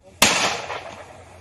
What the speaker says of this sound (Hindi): गोलियों की आवाज आप सुन सकते हैं।